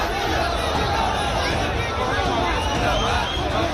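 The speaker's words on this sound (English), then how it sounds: "this enormous crowd for BJP leader Himanta Biswa Sharma" A large crowd at a BJP political rally in Assam makes a dense, steady hubbub of many voices and movement, loud and close throughout with no single speaker standing out.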